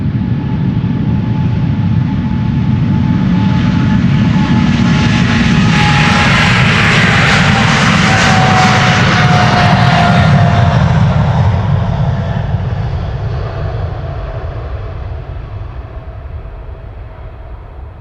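A KLM Boeing 777-300 heads out of Schiphol for Atlanta, its heavy engine roar building loud and close with a whining tone sweeping downward, then gradually fading into the distance.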